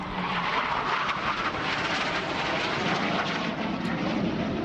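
A Hawker Hunter jet aircraft flies past at Dunsfold with a steady, loud engine roar and broadband rushing noise, sustained throughout without any talking.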